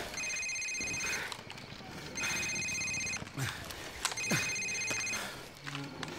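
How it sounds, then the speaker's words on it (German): A mobile phone rings in Call of Duty 4: Modern Warfare, three repeated electronic ringtone bursts with short gaps between them, loud and close over steady in-game background noise. "Sir, das ist sein Handy."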